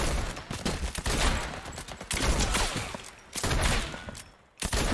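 Dense bursts of gunfire in the Fortnite video game, loud sustained volleys of shots broken by short pauses and a brief near-silent gap before firing resumes, with no voices.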